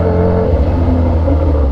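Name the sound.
Kawasaki Z H2 motorcycle engine revving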